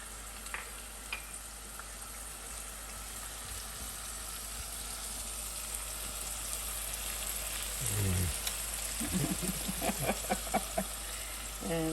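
Filet mignon searing in a hot pan with butter, a continuous soft sizzle and crackle up close, with clinks and stirring scrapes of utensils growing louder toward the end.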